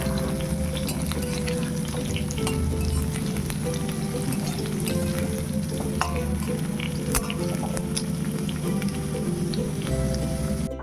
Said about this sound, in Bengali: আলুটাকে লাল লাল করে ভেজে নিচ্ছি।